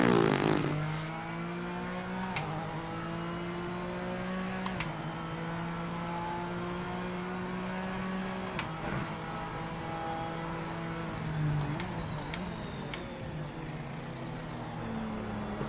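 A GT-class race car in a racing video game, its engine droning low and steady like a tractor at near-constant revs, with a few brief shifts in pitch and short clicks across the run.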